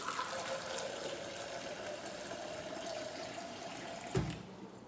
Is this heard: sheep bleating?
no